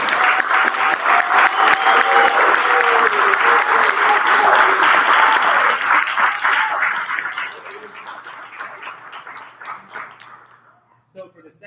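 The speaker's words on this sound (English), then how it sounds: "let's just get a round of applause" A loud round of applause from a crowd at an evening event, full and dense for several seconds, then thinning into scattered individual claps before fading out.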